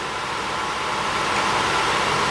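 A 2011 Ford Fusion Hybrid engine running steadily, heard as a close, even broadband hum without any change in level or rhythm throughout.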